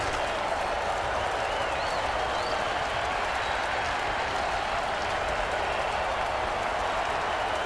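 A football video game stadium crowd cheers with a steady, dense wash of broadband crowd noise and applause, constant and moderately loud throughout, with faint whistles rising above it.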